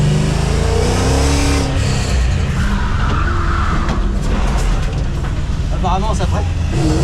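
A Ford Mustang drift car revs hard and skids continuously, its loud engine roar and tyre noise filling the whole stretch while voices talk over it.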